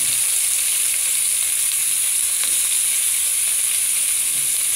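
Onion and tomato sauté in a pan for a cabbage and pechay dish. The sizzle is loud, steady and bright, runs through the whole clip, and no one talks.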